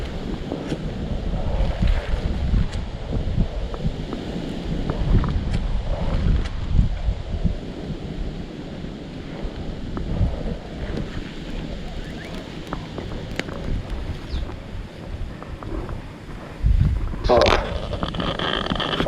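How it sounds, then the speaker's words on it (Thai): Strong wind buffets the microphone while riding in a boat, a continuous rough rumble with gusts rising and falling and a louder surge near the end; a voice speaks briefly under it. "ลมแรง"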